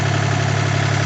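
A 1980 Kubota tractor engine running, a steady low droning idle with a regular pulsing throb, close and loud throughout.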